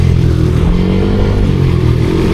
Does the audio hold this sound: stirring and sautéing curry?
no